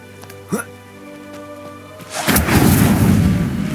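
A fire spell cast in Hogwarts Legacy ignites about midway with a loud whooshing, crackling burst that swells and sustains to the end, following a brief thump and quieter game ambience before it.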